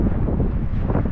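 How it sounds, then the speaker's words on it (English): A short burst of low, blustery wind noise rumbling against the microphone, steady throughout with no voices. "it's a little bit windy"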